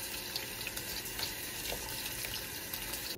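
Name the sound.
water from tap rinsing a dahlia tuber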